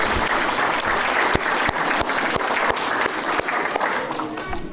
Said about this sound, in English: why don't you give them their applause and just give them a quick thank you.